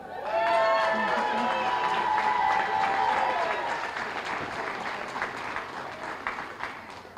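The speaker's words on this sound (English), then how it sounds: "This is quite a cheer section going on." A crowd cheers, shouts and applauds at a hall of fame induction ceremony, loud and sustained throughout, with whoops over steady clapping that eases slightly toward the end.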